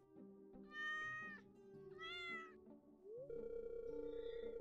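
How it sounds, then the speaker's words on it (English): A cat meows twice in Stardew Valley Expanded, followed by a steady in-game tone, faint and with no talking. "There's something meowing in the water."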